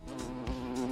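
A short buzz sound effect in a game under development plays as a steady, droning, insect-like tone lasting about a second, loud and alone.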